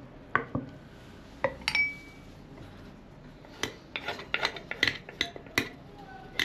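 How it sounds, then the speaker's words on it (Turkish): A long wooden spoon stirs a lumpy flour mixture in a pot, making scattered knocks, clinks and short scraping strokes against the pot in an irregular rhythm, close and fairly quiet. "Bunu karıştırıyoruz böyle. Unu kalmasın."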